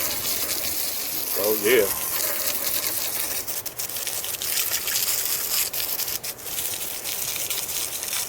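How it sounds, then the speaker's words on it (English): Steady, close hiss of water rinsing car wheels and tires after a wheel cleaner, continuous and loud throughout, with a brief spoken remark early on. "Just make sure you rinse it real good."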